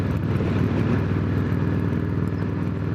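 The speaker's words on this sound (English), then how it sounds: "there is a very, very light chain noise, but between the sound of the exhaust and cruising, you don't even notice it" A Harley-Davidson FXR fitted with a Vulcan drive chain conversion cruises with a loud, steady, deep exhaust rumble. Any chain noise stays buried under the engine.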